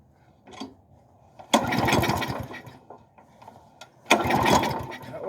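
A flooded lawn mower engine at half throttle sputters in two rough, short bursts of running that quickly die away, with a brief fainter attempt before them, close and loud.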